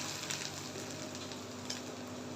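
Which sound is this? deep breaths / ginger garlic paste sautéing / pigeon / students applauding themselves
ginger garlic paste sautéing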